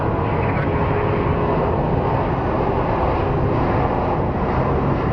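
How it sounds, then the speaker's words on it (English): An Alaska Airlines Boeing 737 at Phoenix Sky Harbor International Airport produces a loud, continuous jet engine roar, steady and close throughout. "that looks like a Alaska 737 MAX 9"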